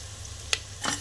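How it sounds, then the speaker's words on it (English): Ginger garlic paste hits a hot pan for coconut rice, giving two short bursts of sizzle over a low steady hum, near and fairly quiet. "Now I'm going to add 2 tablespoons of ginger garlic paste"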